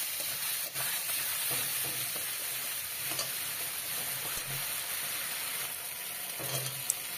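Spice masala for a beans curry fries in hot oil while being stirred, a steady close sizzle with soft scraping strokes running throughout, no voices.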